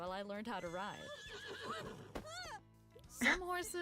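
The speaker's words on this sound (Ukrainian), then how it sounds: "Сейдж це мій кінь, дуже дружелюбний." A horse in The Sims 4 gives several loud, wavering whinnies with faint hoof clops, someone speaking over and between the calls.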